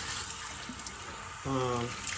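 Tap water runs into a kitchen container, starting as a soft background wash and then swelling into a louder, fuller stream near the end.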